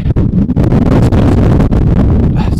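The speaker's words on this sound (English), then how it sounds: "it's just been so windy trying to get up here" Strong gusts buffet the microphone on a Lake District mountain near Scafell Pike, giving a loud, continuous rough roar with sharp thumps from the wind.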